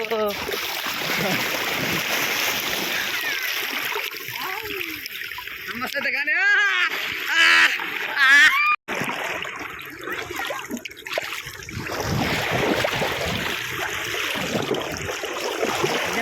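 People swimming in a river at a bathing ghat, with splashing and rushing water throughout, bursts of splashes and churning under frequent nearby voices talking and calling.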